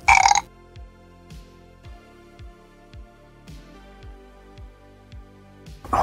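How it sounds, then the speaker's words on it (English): A loud electronic chirp opens, then a series of short, low synthetic burping sounds from a Furby Furblets mini electronic plush toy repeats at a steady rhythm, ending with another bright electronic tone. "she just burped"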